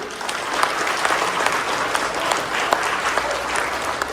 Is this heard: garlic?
no